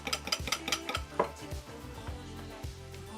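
Eggs for migas are beaten in a bowl, with rapid rhythmic clicks and taps of utensil against dish, a quick burst early that settles into softer, steadier strokes close by.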